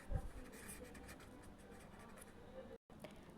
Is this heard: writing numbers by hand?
yes